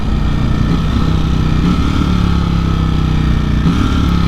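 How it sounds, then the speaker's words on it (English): A Ducati Streetfighter V4S engine running steadily and loud, a dense, rough mechanical drone with slight dips where quick-shifter gear changes pass, with no voices. "Quick shifter works really nicely even when the engine isn't particularly under load"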